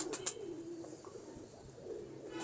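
Pigeons of a large-bodied breed coo softly in a loft, several low rolling coos with a couple of brief higher chirps, fairly close and quiet, with no talking over them.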